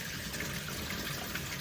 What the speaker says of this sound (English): You can just drain the water.